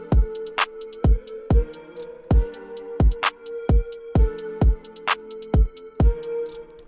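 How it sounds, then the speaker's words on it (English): A synth bus in FL Studio plays with reverb and delay added: repeated plucky synth hits in a steady rhythm, each note trailing off into echoing tails over a sustained tone. "So we're just adding some reverb to the synth bus,"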